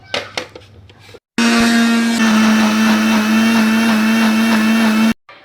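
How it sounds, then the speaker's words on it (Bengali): An electric blender whirs loudly and steadily for about four seconds while blending deboned meat, after a few brief knocks, then cuts off abruptly. "এখন আমি এটাকে ব্লেন্ড করে নেব"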